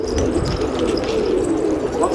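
Pigeons coo in low, throaty murmurs close by in a coop, with a steady babble of overlapping calls and some background voices mixed in.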